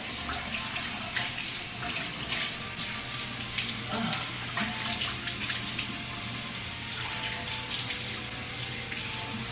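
Tap water runs steadily into a sink, a continuous splashing hiss with small clinks and knocks, close and fairly quiet.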